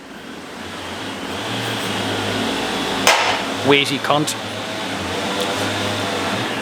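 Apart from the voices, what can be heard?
chainsaw cutting timber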